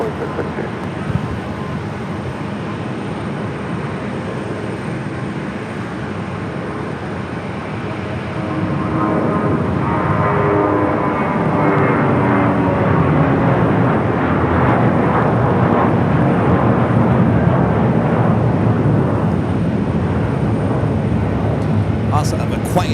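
Southwest airliner taking off from runway 7 left at Phoenix Sky Harbor airport, a broad jet roar that swells after several seconds and holds loud and steady, with faint talk beneath the rumble.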